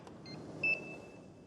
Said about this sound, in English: It's going to make a beep.